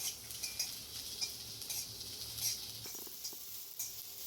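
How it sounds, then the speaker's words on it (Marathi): Chopped onion sautéing in oil in a kadhai while being stirred for Malvani chicken, giving a steady close hiss with scraping and clinking of a spoon against the pan, no talk. "आता कढईमध्ये थोडं तेल टाकलं आहे, त्यात आता आपण कांदा भाजून घेऊया।"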